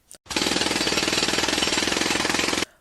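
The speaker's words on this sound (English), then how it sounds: "the violent noises of construction" A construction jackhammer pounds continuously in rapid, steady bursts, loud and close, with no voices over it.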